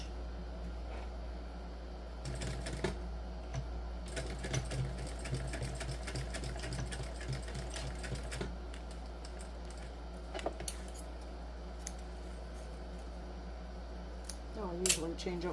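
A home sewing machine stitches together the thick ends of a crossbody bag, its motor running in repeated fast bursts of needle chatter separated by short pauses, close and steady over a low constant hum.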